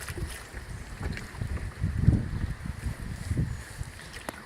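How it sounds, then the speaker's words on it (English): Rushing rapids on the Flatrock River in central Indiana, heard from a canoe: a steady broadband wash of moving water with low rumbling surges and wind buffeting the microphone, no voices. "Because the rapids just get crazier."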